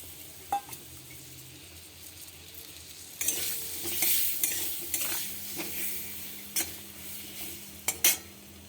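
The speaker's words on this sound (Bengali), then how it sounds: "আলুটা ভাজা হয়ে গেছে" Potatoes rubbed with salt and turmeric fry in oil after eggs were fried in the same pan. After a quiet start, a soft sizzle sets in, broken by a few sharp clinks of a utensil against the pan.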